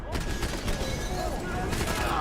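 Rapid gunfire in the third-person shooter Max Payne 3 during a firefight, dense overlapping shots in a steady rattling barrage, with a voice speaking briefly over the shooting.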